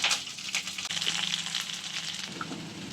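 Onions sautéing in a pan for a potato gravy, a steady close sizzle with a bright hiss running throughout and a few soft stirring scrapes, with no voices.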